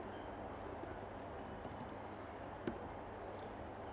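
Quiet keystrokes on a computer keyboard entering text into a browser, a faint, irregular run of clicks over a steady low room hum, with one sharper tap near the end.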